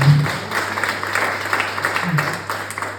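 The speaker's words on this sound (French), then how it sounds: "On peut effectivement applaudir si vous souhaitez." Scattered applause from attendees at a public town meeting, a modest patter of clapping hands over a steady low hum, with brief voices murmuring underneath.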